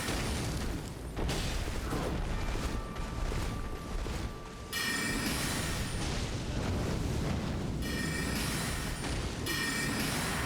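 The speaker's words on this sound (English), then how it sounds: "No, it's just an explosion." Explosion in the video game Elden Ring, a dense rumbling burst with crackling debris over continuous game noise, followed by a brief lull and then a renewed bright, roaring blast texture.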